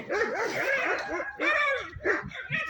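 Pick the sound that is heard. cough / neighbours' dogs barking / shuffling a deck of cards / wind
neighbours' dogs barking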